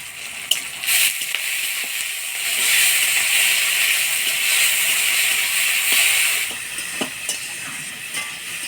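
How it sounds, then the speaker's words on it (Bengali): Small shrimp fry in a hot pan, giving a bright, continuous hiss that swells and holds for several seconds, with a few sharp clicks and spatters and no voices. "এগুলো সব চিংড়ি মাছের সাথে দিয়ে একসাথে ভেজে নেব।"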